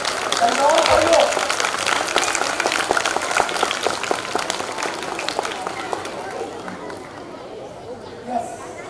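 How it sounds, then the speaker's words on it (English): Audience at a school day event applauding, a strong burst of many hands clapping that gradually thins out, with some crowd chatter. "Very big applause."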